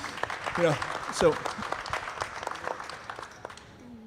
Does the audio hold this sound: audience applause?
yes